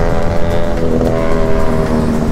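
A motorcycle with a loud aftermarket exhaust drones steadily close by, a rough rumbling tone that holds unbroken throughout.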